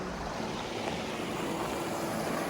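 Little Bear Canyon's creek pouring into the Gila River, a steady broadband rush of flowing water with no breaks, fairly close and even in level throughout.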